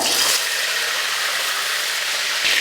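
Fenugreek seeds and curry leaves spluttering in hot oil in a pan, heard as a steady close hiss and sizzle with brief louder crackling flare-ups at the start and the end.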